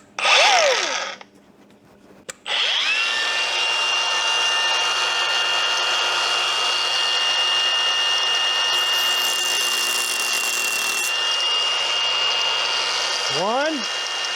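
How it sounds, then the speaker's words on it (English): Angle grinder with safety shield cutting into a metal rifle part, a loud, close, sustained grinding whine after a short start-up burst and pause, with brief voice-like sounds near the end. "This grinder, I actually even have the safety shield still on it."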